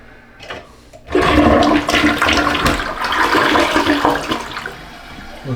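A newly installed toilet in a home addition flushes loudly and close up, a sudden roaring rush of water that swirls for several seconds before easing off, with no one talking.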